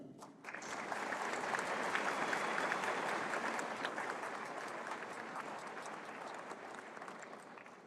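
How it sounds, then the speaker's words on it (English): An audience at a 2017 college convocation ceremony applauds the drummers, a steady, dense wash of many hands clapping that swells in the first seconds, holds, then slowly thins toward the end, with no voices over it. "Let's applaud them again."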